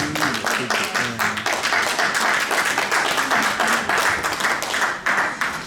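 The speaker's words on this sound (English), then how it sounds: "Give a round of applause for him, please" A round of applause for a student welfare president being introduced at a university integration evening: a dense, loud crowd clapping that runs steadily throughout, with some voices and cheering mixed faintly underneath.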